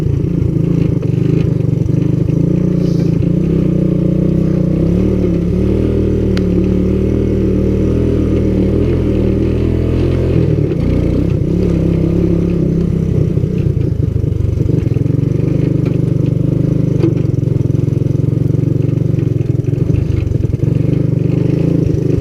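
A vintage Honda ATC200S three-wheeler engine on a speed trial drones loudly and steadily throughout, with rattling and clatter over the running motor and no talking.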